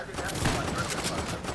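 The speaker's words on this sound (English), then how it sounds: "There's kids shooting me." Rapid gunfire from a Fortnite match, a dense continuous spray of shots filling the whole moment at steady loudness, mixed with game noise and a player's voice talking over it.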